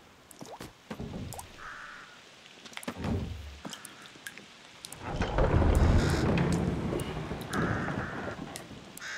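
Rolling thunder and steady rain from a thunderstorm in the video game A Plague Tale: Requiem, with heavy low rumbles swelling in the second half over a constant patter of rain.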